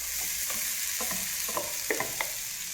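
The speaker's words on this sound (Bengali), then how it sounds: "লো ফ্লেমে আমাকে এটা ভাজতে হবে, আস্তে আস্তে করে নাড়াতে হবে" Grated coconut is stirred and fried slowly in a wok over a low flame, with a soft steady sizzle and light scraping strokes at a gentle, uneven pace, close up and without voices.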